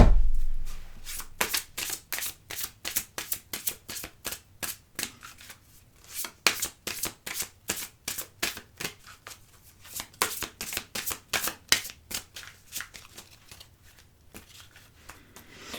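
A deck of tarot cards being shuffled by hand, close and crisp, in long runs of rapid papery riffling clicks with brief pauses between bursts.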